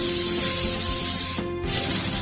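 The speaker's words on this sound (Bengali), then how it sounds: "কুচিয়ে রাখা পেঁয়াজ দিয়ে দিলাম।" Chopped onions hit hot oil already seasoned with cumin and a bay leaf, giving a loud, dense, continuous hiss and spatter that fills the clip, briefly dipping midway.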